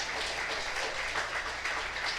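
Applause from a church congregation during a sermon, a moderately loud, fairly even wash of clapping lasting a couple of seconds, with no voices over it.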